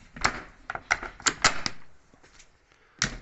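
Smokehouse door being closed, a cluster of close wooden knocks and latch clicks followed by a final thud after a short pause.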